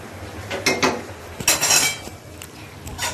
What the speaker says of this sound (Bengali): চিনি দিয়ে এবং কাঁচামরিচ দিয়ে আম্মু নেড়ে চেড়ে দিচ্ছে